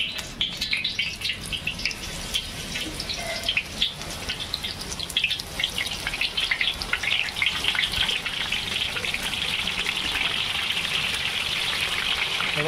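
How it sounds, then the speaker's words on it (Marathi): Hot oil sizzling and crackling steadily as vegetables are deep-fried for veg Chinese rice, a dense, continuous spatter that stays loud and close throughout with no talking. "तेल गरम झालेलं आहे. आता आपण तळून घेऊ."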